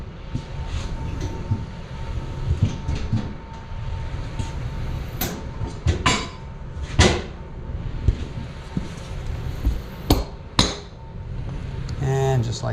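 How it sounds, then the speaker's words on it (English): Several sharp rubber hammer strikes on a Seadoo RXDI engine during engine removal, scattered irregular thuds and knocks in a workshop over a continuous background rumble. "Rubber hammer."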